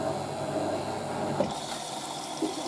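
A 1986 Hotpoint 9530 Electronic 1000 Plus washing machine fills with water for its third rinse, a steady rushing inflow with a faint low hum, close and continuous, with one soft knock midway.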